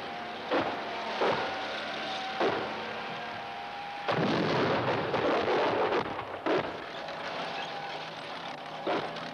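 Artillery rounds firing and exploding at a moving PT-76 light tank: a series of heavy booms at irregular intervals, with one longer rolling blast in the middle, loud and reverberant, with no speech.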